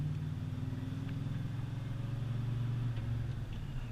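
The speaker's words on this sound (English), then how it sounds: "Going into fourth. Really nice. Going into fifth." A car engine drones steadily and close up while the driver upshifts through a tight manual transmission into fourth and fifth gear, with a continuous low hum and no grinding or pauses.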